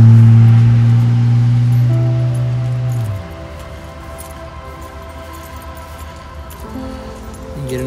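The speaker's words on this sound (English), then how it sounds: "Get an idea of the highway traffic right here." Highway traffic at a major intersection near Manassas Battlefield, heard from the roadside: a loud, low engine drone from a passing vehicle fades out, leaving a steady traffic rumble before another vehicle approaches.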